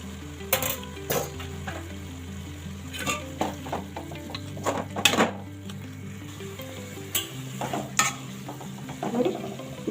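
Coriander being stirred into tamarind gojju sizzling in a pan on a stove: steady frying crackle with repeated spoon scrapes and light metallic taps against the pan, close and continuous.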